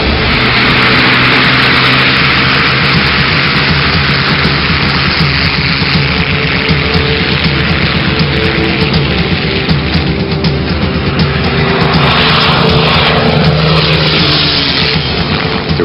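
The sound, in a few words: P-51 aircraft engine throttling up for takeoff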